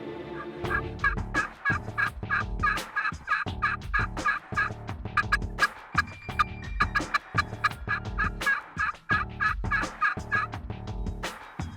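Young wild turkey jakes gobbling on a morning hunt, a rapid series of loud, rattling gobbles repeating in quick bursts close by, with several birds overlapping throughout.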